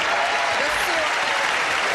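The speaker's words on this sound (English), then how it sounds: "the round of applause for our two players here" A studio audience on a 1984 Match Game–Hollywood Squares Hour broadcast applauds the two game show players, a steady, dense wash of clapping sustained throughout with a faint voice briefly over it.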